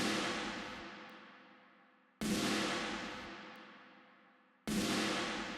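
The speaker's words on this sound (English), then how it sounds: "some snare bombs" Three huge, booming snare bomb hits used in modern metal production, each a sudden loud impact followed by a long, slowly fading reverberant tail, with no talking.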